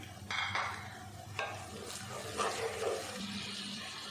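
Spice masala of coriander, red chilli and turmeric powder fries and gets stirred in a pan for a white lobia curry, giving a soft steady sizzle with occasional scraping stirs, faint and close, without speech.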